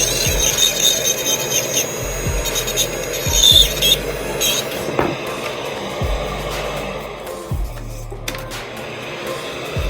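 A dental lab grinder shapes a tooth for a diastema prep, giving a steady whining hum with repeated short bursts as the tool touches the tooth, fairly loud and close, with no talking.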